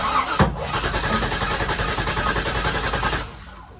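A car engine with air injection cranks with a sharp kick-back thump near the start, then a steady rough churning drone of cranking that cuts off abruptly, close and fairly loud.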